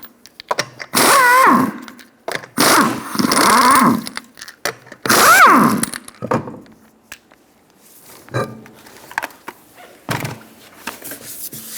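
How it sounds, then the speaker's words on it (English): Impact wrench spinning off the five lug nuts with a 21mm socket on a 2007-2012 Nissan Altima rear wheel, several loud whirring bursts with pauses between them, then quieter clanks. "Using a 21mm socket, we're going to remove the 5 lug nuts."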